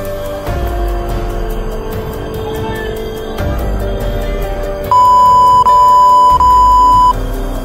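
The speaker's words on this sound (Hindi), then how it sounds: "मैं बीप डाल दूंगा उसमें" A loud, steady censor beep runs for about two seconds over continuous background music and road ambience inside a moving car.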